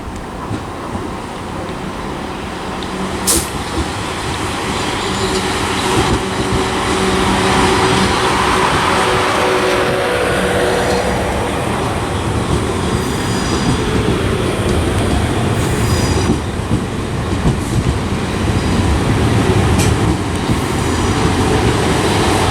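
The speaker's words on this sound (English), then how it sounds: "Also arriving is the 1330 South Western Railway service from Weymouth to London Waterloo" South Western Railway Class 444 electric train on the Weymouth to London Waterloo service pulling into Southampton Central, with a broad rumble, wheel clatter and faint squeals building steadily and staying loud nearby.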